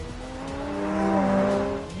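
A car engine in The Grand Tour Game revs loud and close, its steady drone climbing in pitch and then dipping as it accelerates away.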